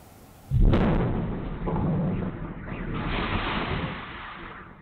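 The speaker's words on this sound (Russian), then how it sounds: "Момент взрыва газа попал на камеру видеонаблюдения у дома напротив." A gas explosion at an apartment building, picked up by a security camera across the street: a sudden heavy boom erupts from quiet and rolls into a long, rumbling, debris-filled roar that swells again before slowly fading.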